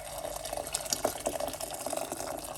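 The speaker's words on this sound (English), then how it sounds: "pour some hot water" Hot water poured over pineapple peels to brew tea, a soft, steady trickle and splash of liquid with small irregular splashes throughout, faint and close by.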